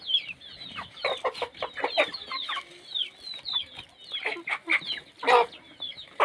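Backyard chickens kept on a home scale, with hens clucking and cackling in a steady busy chatter and a rooster among them, close and clear with no talk over them.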